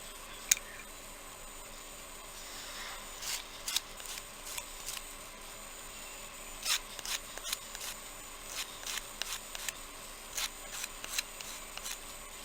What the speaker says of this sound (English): I am using the rougher side of the emery board.